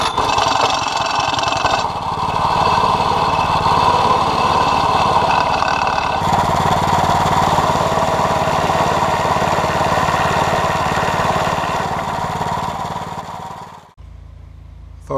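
A Trucut 27-inch reel mower's small engine runs steadily at close range, a loud, even chugging drone with a slight shift partway through before it cuts off near the end, no voices.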